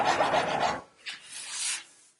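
A hand file rasps across wood while shaping a lamb's tongue chamfer: one close, broad filing stroke, then a quieter, lighter stroke after a short pause.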